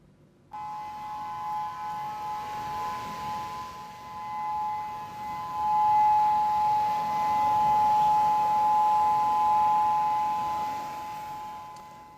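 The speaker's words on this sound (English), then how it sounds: "triggering alerts and evacuations with sirens blaring across Hawaii" A civil defense siren in Hawaii wails steadily in the distance during a tsunami alert after an 8.8 magnitude Kamchatka earthquake, its tone rising and falling slightly in loudness over a low background rumble.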